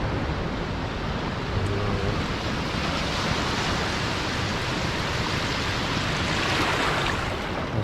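Waves washing up on a dark beach at night, a continuous broad rush of surf with wind, steady and fairly loud, no voices.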